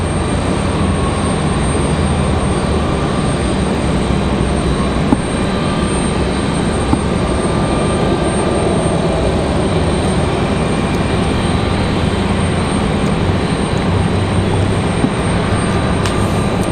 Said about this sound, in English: Got a private jet about to land over here on this side if it hasn't already.